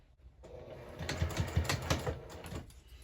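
A sewing machine stitches two fabric pieces closed on a small gift card holder stocking, a soft, fast run of mechanical ticking that starts after a brief quiet moment and continues steadily and faintly.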